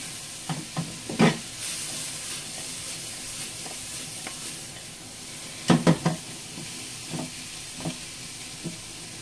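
Japchae vegetables and mushrooms stir-fried over high heat in a pan, a steady sizzle and hiss broken by a few scraping stirs and clacks, with a sharp cluster of clatters midway.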